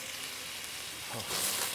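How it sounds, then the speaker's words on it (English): Saganaki made from kefalograviera, a salty sheep and goat's milk cheese, sizzles and fries steadily in a hot pan at a Greek restaurant, a constant bright hiss with no talk over it. "And you can hear the sizzling all the way from here."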